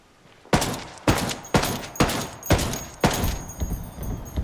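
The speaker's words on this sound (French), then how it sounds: "je me fais canarder" Gunfire in the video game Ghost Recon Wildlands, a series of loud sharp shots in a roughly regular rhythm, about seven blasts each trailing into a short reverberant tail.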